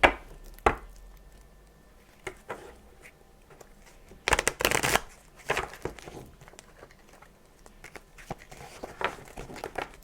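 Oracle cards being shuffled for a reading, with irregular riffling and slapping bursts, one louder flurry in the middle and softer rustles around it, close by with no talking.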